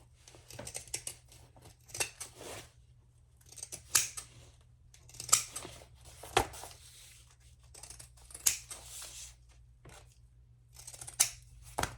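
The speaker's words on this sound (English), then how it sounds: "Then I'm going to use some pinking shears on my curves." Pinking shears snip around fabric curves for a convertible crossbody phone pouch, giving a series of crisp, close cutting crunches in irregular bursts with brief pauses between, and no talking.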